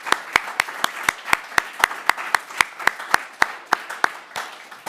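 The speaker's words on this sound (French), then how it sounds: "je pense qu'on peut applaudir et remercier chaleureusement Didier Damax" Audience at a closing literary conference clapping in a steady, fairly sparse rhythm of distinct sharp claps, moderately close and alone without talk.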